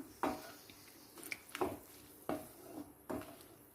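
Lemon pieces sautéed and stirred in a pan for an Onam-style Kerala lemon curry, giving four separate soft scrapes of a spoon against the pan, evenly spaced and fairly quiet, with no one talking.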